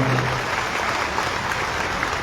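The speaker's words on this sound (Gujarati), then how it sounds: "આ કામ માટે એક વખત એ બંને નેતાઓ માટે તાળીઓ પાડો" An audience at a felicitation ceremony in Tharad, Gujarat claps for two leaders, with a dense, steady burst of applause from a large crowd throughout.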